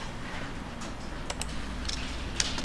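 Typing on a computer keyboard while alt text for an image is entered, a steady run of light clicks with a few louder key taps over a faint background hum.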